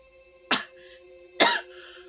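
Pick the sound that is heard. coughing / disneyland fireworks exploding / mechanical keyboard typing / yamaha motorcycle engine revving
coughing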